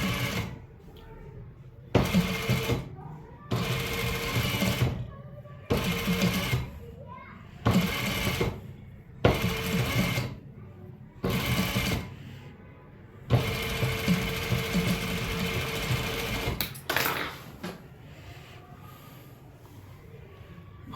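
An electric sewing machine stitches the edge of a trouser in repeated runs of steady, fast whirring, each lasting a second or two with short pauses between and one longer run near the end, close and clear.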